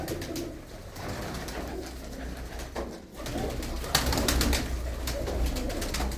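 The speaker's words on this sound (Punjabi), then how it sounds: "ਇਹ ਸਾਰੇ ਵੱਡੇ ਕਬੂਤਰ ਆ" Large pigeons cooing in a village cattle shed, several birds giving low, steady throaty coos close by, continuous with some overlapping calls and no talk.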